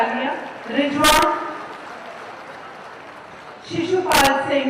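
Crowd applause at a government housing scheme event where beneficiaries receive their keys: a loud, sustained burst of clapping between stretches of amplified announcements in the hall.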